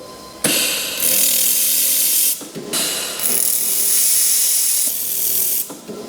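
A laser welder tacking metal pieces for a tiny home build gives off loud, sustained hissing bursts, each lasting about a second or two, separated by short pauses.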